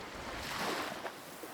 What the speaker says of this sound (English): the sound of the waves became a roar